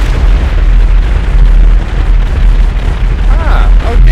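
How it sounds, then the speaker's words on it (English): A huge C4 explosion in Grand Theft Auto 5 gives a loud, sustained deep rumbling roar with crackling debris throughout, and a voice briefly breaks in near the end. "the largest Grand Theft Auto 5 explosion launching in"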